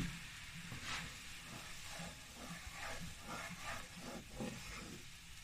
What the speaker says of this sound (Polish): Teraz podlewamy patelnię wodą.